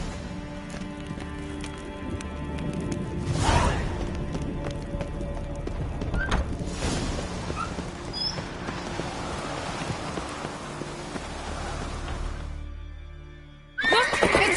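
Horse whinnies and hooves gallop in The Witcher 3: Wild Hunt during a mounted chase, with loud clip-clop running steadily under a rain-like wash, a sharp neigh breaking through midway, and the hoofbeats briefly dropping out near the end.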